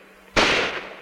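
A single loud carbine shot from a WWII-era US Army training film cracks out abruptly and fades over a short echoing tail.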